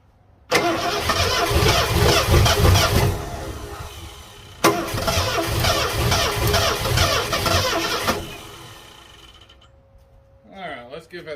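An engine on a vehicle left abandoned for over 25 years cranks and catches twice, running roughly and loudly for a few seconds each time before dying away, followed by faint rustling.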